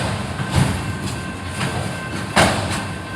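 Train passing on railroad tracks at a highway crossing, a loud continuous rumble with rhythmic clickety-clack bursts from the wheels, heard nearby and alone without talk.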